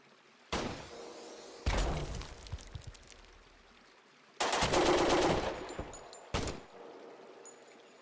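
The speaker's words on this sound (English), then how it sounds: "We'll put the rocket through there instead." Rocket launches and explosions in the Door Kickers 2 video game, several sudden loud blasts separated by quieter gaps, with rumbling, crackling tails after each.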